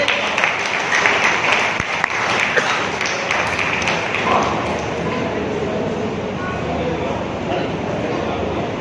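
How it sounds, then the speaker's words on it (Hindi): Applause from an RCM family gathering at a pin celebration, greeting the Diamond Club members as they stand, a dense steady wash of clapping filling the room, with talk mixed in. "तालियां हो जाए सभी के लिए"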